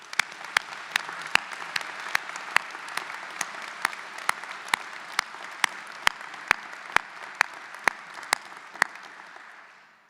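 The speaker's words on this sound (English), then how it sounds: "Can we please have a round of applause for our outstanding graduate faculty?" A large audience at a university doctoral hooding ceremony applauds, sustained dense clapping in a big hall with a few sharp, distinct claps standing out, tapering off at the end.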